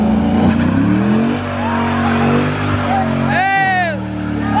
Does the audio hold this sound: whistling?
no